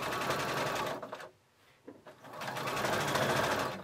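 A sewing machine stitches elastic onto a reusable face mask in fast, steady mechanical bursts, pausing briefly in the middle before running on again, close and clear.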